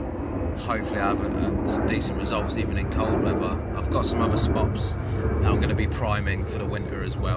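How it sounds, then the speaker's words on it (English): An aeroplane flying overhead at a lakeside carp fishing spot at Wraysbury, a steady distant engine drone under someone talking throughout. "excuse the plane."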